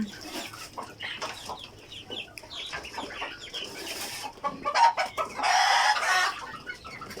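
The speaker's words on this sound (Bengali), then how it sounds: "এই যে আমাদের মুরগিগুলো দেখতেছেন" Egyptian Fayoumi chickens cluck and call repeatedly in a poultry room, a busy, fairly close flock with overlapping short clucks, one louder burst of squawking near the end.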